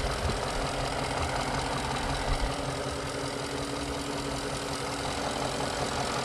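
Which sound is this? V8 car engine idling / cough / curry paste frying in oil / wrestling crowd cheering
V8 car engine idling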